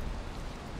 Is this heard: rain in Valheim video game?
yes